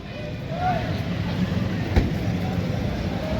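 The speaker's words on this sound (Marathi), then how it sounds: "आपली सोलापूर पुणे हुतात्मा एक्सप्रेस प्लॅटफॉर्म नंबर 1 वरती रिव्हर्स शंटिंग केली जात आहे" The Solapur–Pune Hutatma Express, a passenger train, reverse shunts along platform 1 at Solapur station with a low continuous rumble of rolling cars, faint squeals and a single sharp clank midway, amid busy platform ambience.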